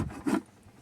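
A tool scrapes propolis off the wooden parts of a beehive, one brief, close rasping stroke that fades into quiet.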